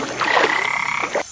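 A frog in an animated jungle lets out one loud, sustained, trilling croak that pulses rapidly and then cuts off abruptly.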